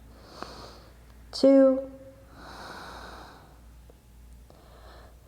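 Deep breathing during a yoga flexibility flow, with faint breaths followed by one loud forceful exhale and a sighing gasp, close and under a calm instructor's counting voice.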